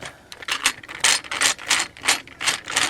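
A voltage selector switch being worked out of a salvaged, non-working power supply, giving a close, rapid series of ratcheting mechanical clicks and scrapes in an uneven rhythm with no talking.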